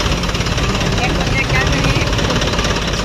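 A tractor engine runs close by with a rough, continuous rumble that holds steady throughout, with people talking over it.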